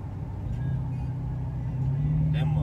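A V8 Dodge Challenger engine rumbles low and rises as it downshifts, heard from inside the car with a steady growl that climbs toward the end, while people talk.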